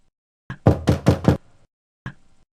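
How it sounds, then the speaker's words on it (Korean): Knuckles rap on a door close by, a quick burst of four firm knocks, preceded by a soft tap and followed by a single lighter knock after a pause in an otherwise silent room. "그때 노크 소리가 들렸습니다."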